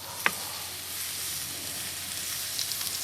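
Onions and peppers sizzling in a hot pan for blackened grouper phillies, a steady bright hiss with a sharp clink near the start and a few small pops toward the end, no talking.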